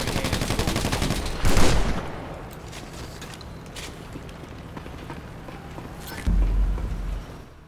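Gunfire in GTA 5 Online, heavy bursts with loud booming shots at intervals over a steady rattle of weapons, close and forceful.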